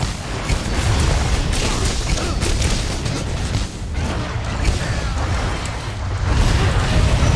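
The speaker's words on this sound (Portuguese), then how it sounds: "Deus, eu tomei na cara essa explosão." A golden Rathian's explosion in the Monster Hunter game detonates with a deep, sustained boom, loud rumbling noise filling the whole stretch and swelling again near the end.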